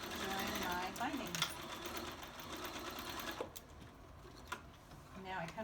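Sewing machine running steadily up close, stitching a quarter-inch seam to join fabric binding on a small folded star coaster, a continuous whirring hum with slight variations and a few brief clicks.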